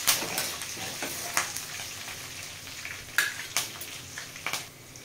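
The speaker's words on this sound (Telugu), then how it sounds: "ఫ్రై అయిపోయినాయి. కరివేపాకు వేసుకుందాం, కలుపుకుందాం." Puffed rice frying in a pan is stirred with curry leaves, a steady close sizzle with repeated scraping strokes of the spoon against the pan and no talking.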